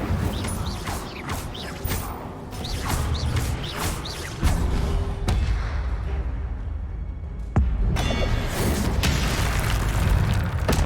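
Magical spell-casting effects from the video game Hogwarts Legacy, layered whooshes, creaks and booming bursts arriving in several distinct hits over a steady game backdrop, moderately loud with no talk.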